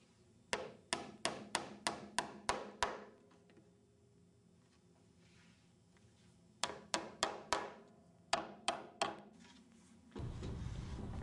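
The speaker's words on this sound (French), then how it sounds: "Prends le marteau." Rapid bursts of hammer blows driving nails into wood, several quick strikes per group with pauses between, ending in a muffled rustle.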